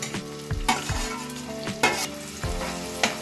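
Chopped onion and green chilli sizzle in a hot oiled pan, with a spatula scraping and stirring in quick repeated strokes over the continuous crackle, no speech.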